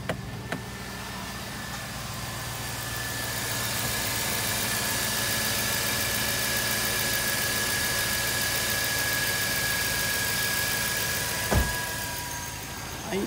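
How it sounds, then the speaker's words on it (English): A classic American V8 engine idles steadily at close range with a continuous rumbling drone and broadband hiss, holding an even level throughout apart from a brief thump near the end. "She's idling good now."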